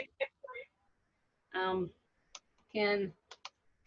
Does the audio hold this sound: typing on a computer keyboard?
yes